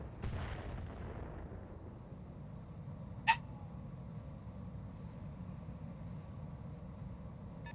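Mortar fire in the video game BattleTech, heard as a distant low rumbling barrage at the start with a single sharp crack partway through, then a steady low background roar.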